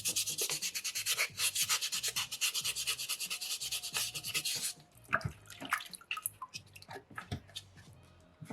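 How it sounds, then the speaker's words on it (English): Wet sanding a soapstone loon carving by hand with sandpaper: rapid rhythmic scratchy rubbing strokes for several seconds, then slower, sparser wet scrapes and drips, close up with no talking. "as we're sanding with sandpaper 2 and 3"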